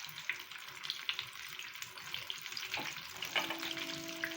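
Egg and potato kebab patties sizzle in hot oil, a steady crackling fry that carries on throughout with a few brief clinks and a faint tonal hum near the end, no talking.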